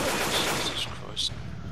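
Gunfire in the Left 4 Dead 2 zombie shooter, a Crash Bandicoot mod map, as rapid bursts of automatic shots run continuously through a busy, loud game mix, with a voice faintly present underneath.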